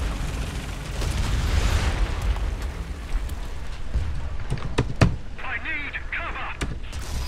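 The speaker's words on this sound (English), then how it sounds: "Our sector is under artillery barrage." Artillery explosions in the tank game War Thunder boom in a dense barrage, heavy low rumbles with sharp cracks at intervals under a player's talking.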